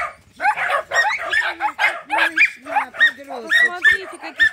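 Dogs at an animal shelter yip, bark and whimper in quick overlapping bursts close by, with high whines mixed in as women chatter over them.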